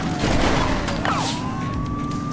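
A police car siren wails in the police simulator game The Precinct under dense action noise with bursts of gunfire, the rising tone fairly faint beneath the din.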